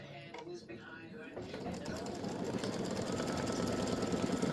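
An embroidery sewing machine stitches in the hoop with a fast, steady mechanical whir and clatter that grows slightly louder, while someone talks over it at first.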